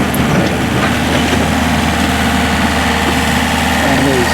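An excavator's diesel engine runs at a steady idle up close, a constant low rumble with vibration, while a person talks over it.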